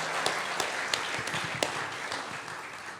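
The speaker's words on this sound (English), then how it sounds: "So a round of applause for that, ladies and gentlemen." Audience applause at a boxing hall of fame presentation event, a dense wash of clapping with a few sharper claps, fading slightly toward the end.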